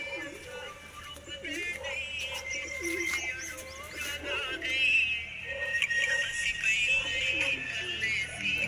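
Pigeons coo and call steadily in a busy loft while new birds are settled into freshly built nesting boxes, with chirps and wing shuffles throughout and no clear talk.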